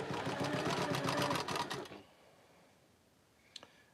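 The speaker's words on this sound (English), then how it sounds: "I'm lining that up and just sewing a 1/4 inch all the way down the sides" A sewing machine stitches a quarter-inch seam down the side of a teal quilt square, running loud and steady for about two seconds before stopping, followed by quiet and a couple of faint clicks.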